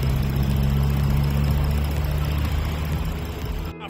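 A Ford Taurus 3.5-liter V6 idles steadily with a low, even hum, fairly close, fading slightly toward the end.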